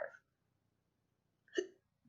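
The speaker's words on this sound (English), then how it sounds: "Excuse me, I have hiccups." Two distinct hiccups from a person, a sharp one at the start and a louder one after a short pause, with a faint third hint at the end, otherwise quiet.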